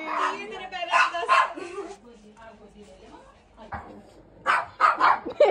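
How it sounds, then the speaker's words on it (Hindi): A dog on a Delhi street at night barks and yips in short bursts close by while trying to bite, with someone talking over and between the barks. "देखो कैसे भाई ये डॉगी मुझे काटने के लिए लगा हुआ है"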